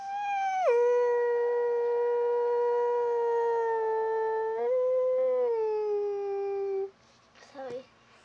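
A person voices a long, sustained fox-like howl, a single drawn-out wavering tone that dips in pitch, followed by a short break and a few quieter yips at the end; a human voice imitating the animal.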